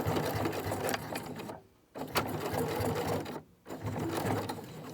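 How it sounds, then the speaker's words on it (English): A sewing machine runs in steady bursts while backstitching a cloth face mask seam, with two short pauses between runs, close and moderately loud. "And I'm going to backstitch again."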